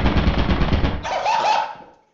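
Machine gun fire in the video game Lethal Company, a dense rapid burst of loud close shots for about a second, then a second tone-shifted volley that rings out and trails off.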